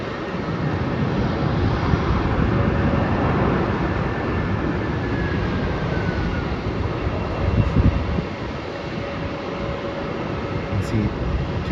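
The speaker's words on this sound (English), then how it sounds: "So there's a Qantas Airbus A330 coming in from Singapore." A Qantas Airbus A330 arriving from Singapore comes in to land at Melbourne Airport, heard as a steady, broad jet roar that holds evenly throughout with a faint rising tone.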